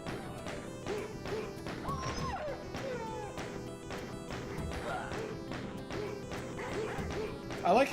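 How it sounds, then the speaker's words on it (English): Dogs in a modded Doom video game take damage, yelping and grunting in short sharp bursts amid rapid game sound effects, layered over a busy mix of in-game noise. "I like how the dogs make human sounds when they're just taking damage."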